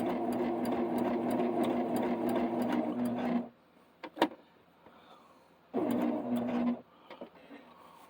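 A sewing machine runs a blanket stitch around an appliqué block, buzzing rapidly in two close bursts separated by a quiet pause with a faint click, and no voices.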